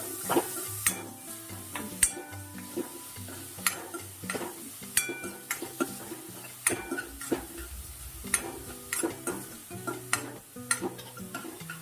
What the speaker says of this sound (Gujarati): આપણે ડુંગળી નાખી દેશું અને એને પણ આપણે ફૂલ ગેસ જ લઈ લઈશું